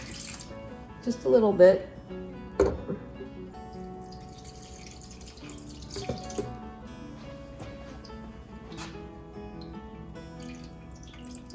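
Turkey stock is poured into a roasting pan in a kitchen, giving a brief splashing trickle early on, followed by faint drips and clatter while a person talks.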